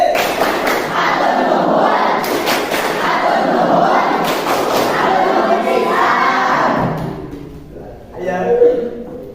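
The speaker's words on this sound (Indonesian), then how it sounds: "Jadi tepuk terima kasih." Indonesian schoolchildren performing the tepuk terima kasih clapping routine in class, loud rhythmic group clapping and chanting voices for several seconds, then the noise drops away and a single voice speaks briefly.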